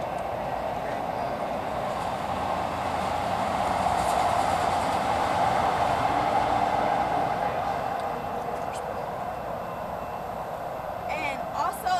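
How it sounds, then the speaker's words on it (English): A train rolls past close by, a loud continuous rumble and rattle that swells in the middle and then eases, with faint squeals near the end. "Let this train go by."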